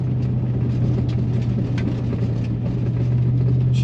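A lifted GMT800 crew cab pickup truck on a Camburg 6-inch mid-travel kit runs off-road at 40 mph on stock tires, with a loud, steady engine rumble and a constant low drone. Faint road and suspension noise rides on top.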